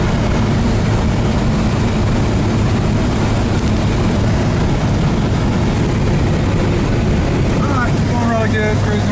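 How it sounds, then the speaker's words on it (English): A 1950s Studebaker engine hums steadily at a 55 mph highway cruise, a continuous low drone with road and wind noise from inside the car, and faint brief chirps near the end. "it's going really good, cruising right along 55 mile an hour"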